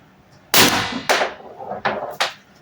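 Valken M17 gas-powered airsoft pistol fires four sharp, loud cracks at uneven intervals, each a broadband bang with a short decaying tail, heard alone with no talking.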